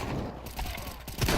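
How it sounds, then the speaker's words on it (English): A flashbang grenade is thrown in a video game, with a dull thump and a burst of crackling game noise over a busy, constant background of in-game action near the end. "Throwing flashbang."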